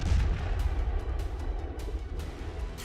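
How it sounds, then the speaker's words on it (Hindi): Russian artillery gun firing shells at the front in Donetsk, a loud booming blast with rumbling reverberation followed by sharp cracking reports, no talking. "इन्हीं खाइयों से तोप के गोले लेकर रूसी सैनिक आते हैं, मशीन में लगाते हैं और फायर करके फिर बंकर में चले जाते हैं।"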